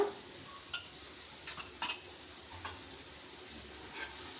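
Ginger paste and turmeric stirred in a frying pan, soft scattered scrapes and clicks of a spoon over a faint, quiet sizzle.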